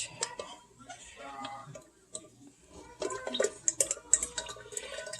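Liquid pours steadily into a 4-cup coffee press with trickling and dripping sounds, while a voice talks over the first part.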